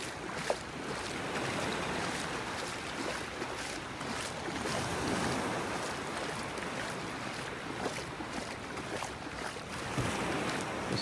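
Waves wash steadily onto a beach in North Naples, Florida, a continuous broadband surf roar with wind, fairly close and even in loudness, with no talking.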